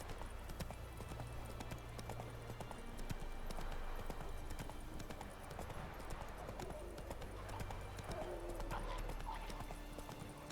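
Horse hooves clip-clopping in a steady rhythmic gait in The Witcher 3, fairly faint and continuous with a game soundscape underneath.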